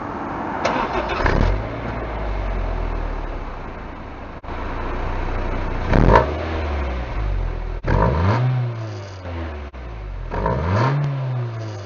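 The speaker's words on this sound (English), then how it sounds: "Only thing left right now is to just give it the old rev." A car engine fitted with a performance racing muffler tip is blipped several times, each rev rising sharply from a steady idle and falling back, close and loud with a raspy exhaust note.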